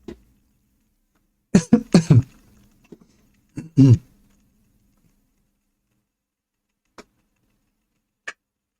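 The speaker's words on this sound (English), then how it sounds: "I think this cough will stay with me" A few harsh coughs in quick clusters, loud and close, followed by a second short burst of coughing and then near silence with only a couple of faint clicks.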